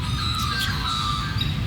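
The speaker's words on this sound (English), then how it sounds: "Was that a bird saying that sound?" Outdoors, a bird squawks in short, thin calls at a moderate distance over steady background noise.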